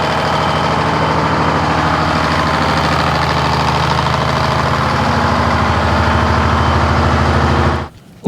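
A machine engine idles in cold weather to warm up its hydraulics, giving a loud, steady, close diesel rumble with a fast, even knocking pulse that runs unchanged before cutting off abruptly near the end.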